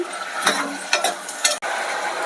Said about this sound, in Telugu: ఇవన్నీ బాగా మగ్గే వరకు కలుపుకుంటారు. ఇవి ఆలు, క్యారెట్, బీన్స్ ఇవన్నీ బాగా మగ్గాలండి.